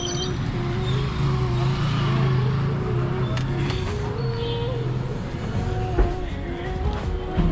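A motorbike engine idling after being started, a low steady rumble close by with some faint background noise and brief clicks.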